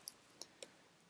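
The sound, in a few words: computer mouse click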